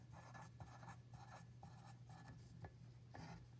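Pencil or pen scratching across paper in short repeated strokes while sketching pizzas, close and steady with brief pauses between marks and no talking.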